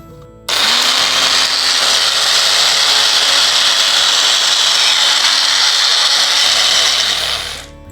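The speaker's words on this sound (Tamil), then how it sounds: "இப்போ நம்ம மிக்சியில் அரைச்சிக்கலாம்" An electric mixer grinder blending Indian jujube into chutney, switching on abruptly into a loud, steady whirring roar that runs for several seconds before winding down.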